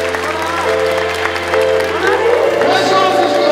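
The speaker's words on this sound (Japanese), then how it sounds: "皆さん、盛大な拍手をお願いいたします。" An audience applauds at a mixed martial arts fight event, steady clapping with some cheers under an announcer speaking over a PA.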